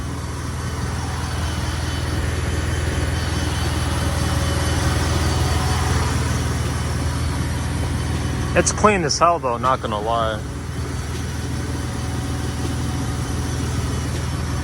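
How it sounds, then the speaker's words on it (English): A V6 Mustang with an aftermarket intake and a BBK X-pipe exhaust with no mufflers idles with a steady, low, rumbling drone throughout, and someone talks briefly over it midway. "if y'all want your car to sound loud as hell, get a BBK X pipe, no mufflers"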